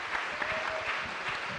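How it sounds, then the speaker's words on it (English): A church hall audience at a returning citizens roundtable applauds the moderator and panel with steady, dense clapping throughout, with no voices over it. "Can we please give this moderator and this panel a round of applause?"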